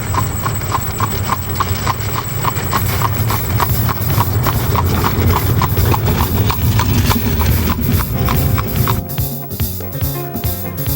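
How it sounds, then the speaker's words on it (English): Horses' hooves clip-clopping on a quiet country road in Amish country, a steady even trot of sharp knocks carrying throughout, with a rumble of wheels or an engine underneath. "the sounds of farm animals and the clip-clop of horses' hooves echo down quiet country"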